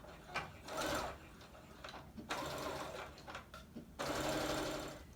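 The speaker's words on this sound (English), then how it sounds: "so I just put a stitch all the way down one side to make that seam" A sewing machine runs a straight stitch down a seam on fabric for homemade drop-crotch pantaloons, sounding in three bursts of whirring mechanical chatter with short pauses between them, close and fairly quiet.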